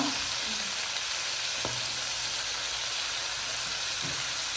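Eggplant drops into a hot frying pan and sets off a loud, steady sizzle that fills the whole stretch, with a brief clatter partway through and no talk.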